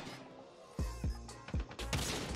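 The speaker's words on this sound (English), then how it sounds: "I am shooting at you, bro." Gunfire in the mobile shooter game COD Mobile: four loud, punchy shots land at irregular intervals over a low background hum, each a sharp burst with a booming low tail.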